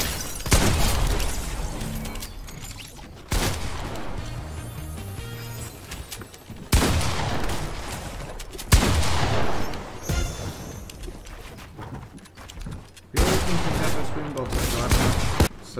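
Gunfire from the AliA Spray gun in Fortnite: several long, loud, rapid bursts separated by short gaps, with other game sounds underneath.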